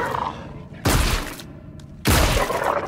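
Two loud, sharp gunshots in the video game Scorn, about a second apart over a low background hum, each with a brief decaying tail.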